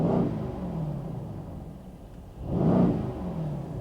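Engine of a 2020 Mercedes-AMG GLC 63 S Coupe heard from inside the cabin, two brief revs that swell and fall away, rising again near the end, muffled and moderately loud.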